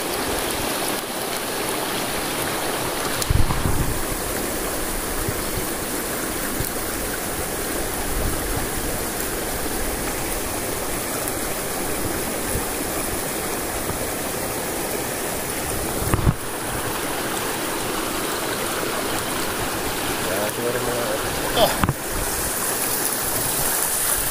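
The Lalangawan River in Cavinti, Laguna flows steadily in a continuous, full rushing wash, with a few brief knocks and splashes along the way.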